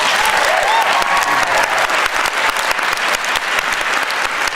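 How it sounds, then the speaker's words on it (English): A loud burst of audience applause after a dance competition performance, thick continuous clapping that stays strong throughout, with faint voices or cheers mixed in early on. "Let's give him a round of applause."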